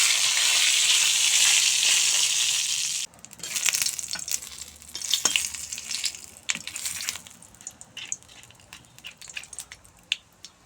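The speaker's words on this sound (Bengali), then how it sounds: "মরিচ ভাজা হয়ে গেছে এবার পাঁচফোড়ন দিয়ে দেব" Dry red chillies and a bay leaf frying in oil in a wok: a loud, steady sizzle for about three seconds, then falling to a quieter crackle broken by scattered sharp pops and stirring scrapes.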